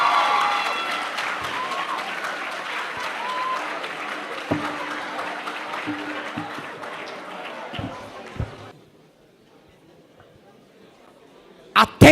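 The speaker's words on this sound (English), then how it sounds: "please, a round of applause for Uwokori Faith" Audience applause welcomes a speaker at a university debate semifinal, a steady clapping crowd that fades out over several seconds into near silence, followed by a couple of sharp knocks at the end.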